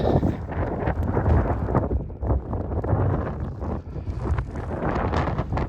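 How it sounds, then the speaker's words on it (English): Strong gusts of wind on open moorland at Margery Hill buffet the microphone with heavy, uneven rumbling and roaring that rises and falls, loud and close throughout. "It's really windy, but it is very beautiful."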